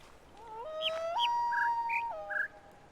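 A bird song puzzle in the video game The Witness plays a short synthetic melody of sustained whistled tones that step between low, mid and high pitches, with brief chirps layered above, clear and alone.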